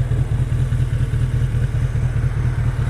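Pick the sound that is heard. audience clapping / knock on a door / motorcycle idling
motorcycle idling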